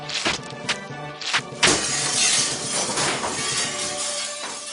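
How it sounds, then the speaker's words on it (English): Glass shatters in a sharp burst of breaking shards, followed by a sustained bright crashing and tinkling spray of fragments that carries on loudly. "the weight of their droppings would shatter the glass"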